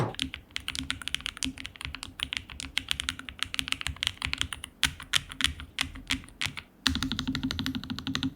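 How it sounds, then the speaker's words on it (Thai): Typing on a Lofree Flow Lite low-profile wireless keyboard, a continuous close run of crisp, soft key clicks in quick uneven rhythm, with a brief pause and a denser burst near the end. "ทุกคนลองจินตนาการดูว่าเปลี่ยนมาใช้คีย์บอร์ด ที่บางเบาไร้สายและเสียงดีขนาดนี้"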